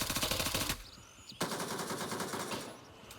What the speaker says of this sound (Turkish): Bu arada arkamda fena çatışma var.